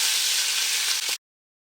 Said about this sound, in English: And we're just going to sear this until it's brown and cooked.